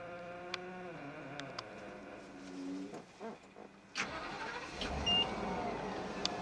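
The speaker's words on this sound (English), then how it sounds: "This is a propane bus, so we're waiting for the ignition on this bus." A propane school bus sits quietly with a faint electrical hum and scattered clicks before the engine fires and settles into a steady low idle, heard up close from inside the vehicle.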